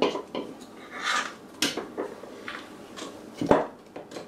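Heavy apple cake batter slides from a bowl into a pound cake pan, with scattered clinks and scrapes of metal utensils and cookware as it is poured.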